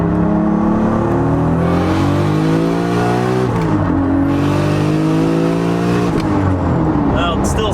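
A 700hp Toyota Supra on Toyo R888 tires accelerates hard with loud, continuous engine revving that climbs through rising tones, breaking off with a brief gear change near the middle and another later, all close and sustained.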